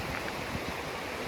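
Waterfall in Iceland, a broad, steady rush of falling water that stays constant and full-bodied throughout, with no voices over it.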